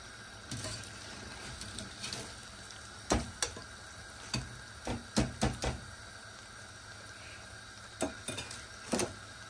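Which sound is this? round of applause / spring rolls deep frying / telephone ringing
spring rolls deep frying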